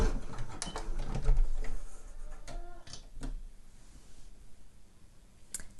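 Domestic sewing machine stitching a trouser leg seam, with a short back stitch at the end; a close, steady mechanical whirr with light clicks that tapers off, no talking.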